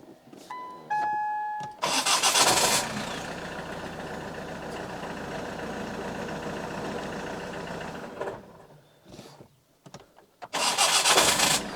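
A repaired Ford Kuga engine cranks and catches, then settles into a steady mid-pitched idle for several seconds before a second start burst near the end, with a few beeps at the outset.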